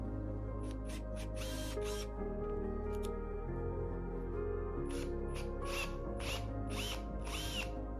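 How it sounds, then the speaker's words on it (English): A power drill bores a pilot hole in wall paneling board inside a truck conversion, a steady whirring motor with rattling and clicking, close and continuous throughout. "I've got a point here to drill a pilot hole"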